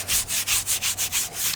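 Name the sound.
scrubbing a car tire with tire cleaner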